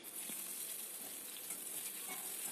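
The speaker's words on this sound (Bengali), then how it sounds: "এবার আমি তেলের ভিতর দিয়ে দিচ্ছি একটা তেজপাতা, জিরে, আর দিয়ে দেবো পেঁয়াজ কুচি।" A bay leaf, cumin and chopped onion fry in hot oil, producing a steady, bright sizzle close by with faint stirring clicks and no talk.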